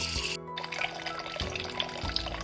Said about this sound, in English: And we're going to lightly scrub the outer surface of the shell.